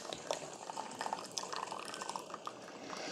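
A Hamilton Beach The Scoop single-serve coffee maker brewing, with soft trickling and dripping of hot water into a cup, faint and close, steady for a few seconds with no talking.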